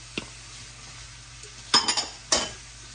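Onion and celery stirred in a frying pan for chorizo cornbread stuffing, a few distinct scraping and clinking strokes of a utensil against the pan over a low, quiet sizzle, close and without talk.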